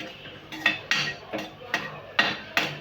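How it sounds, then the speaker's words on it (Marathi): Semolina being roasted and stirred in a pan, a spoon scraping and clinking against the metal in about six distinct close strokes at an even rhythm, with no talking. "त्यामुळे कमी याच्यावर आपण हे भाजून घेऊ"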